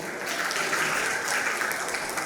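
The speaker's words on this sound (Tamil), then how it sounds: "அவங்களுக்கு ஒரு கைத்தட்டல் கொடுங்க போவோம்" Loud, continuous applause from a college audience at a festive debate show, many hands clapping in a thick, even roar with no break.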